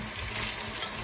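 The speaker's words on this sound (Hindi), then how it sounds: "थोड़ा सा पानी ऐड करेंगे।" Water is poured into a pan of frying potatoes, giving a loud, brief burst of broadband hiss and sizzle lasting about a second with no talking.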